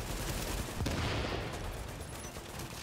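An enemy turret in The Division fires rapid bursts of gunfire amid a dense combat din, with a sharper volley near the one-second mark.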